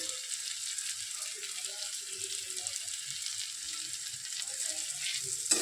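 A spice masala with turmeric, coriander and cumin powders fries for biryani, making a faint, steady hiss of sizzling oil with soft scattered scrapes and clicks underneath.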